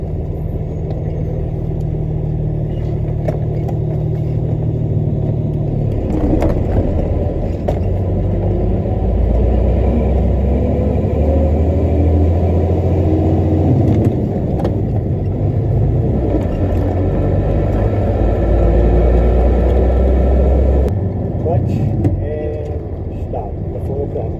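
A semi truck's diesel engine rumbles steadily at low pitch from inside the cab during driving practice, with a person talking over the drone as the engine note rises and falls with gear changes.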